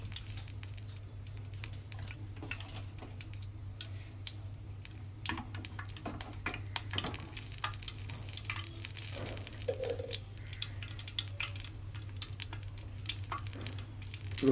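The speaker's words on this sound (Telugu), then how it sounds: "గుత్తొంకాయలు మనం దాంట్లో వేయించాలి కాబట్టి నూనెలో వేయించుకోవాలి" Stuffed brinjals (gutti vankaya) fry in oil in a clay pot with a soft, continuous sizzle and occasional squishy crackles. The frying is quiet and close, with no talking.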